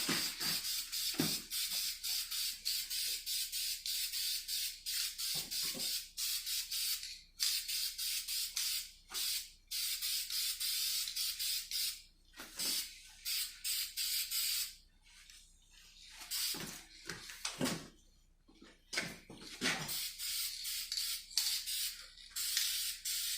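Aerosol spray can coating parts of a 5.3 engine in long, loud hissing bursts separated by short pauses, with a few rattling shakes of the can between passes, close by and without talk.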